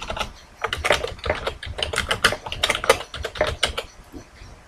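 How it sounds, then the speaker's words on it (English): Rapid bursts of keystrokes on a computer keyboard as a chart title is typed, clicking in quick uneven runs, close and clear with no talking. "I can type a title and I just want to call it Campaign Targets."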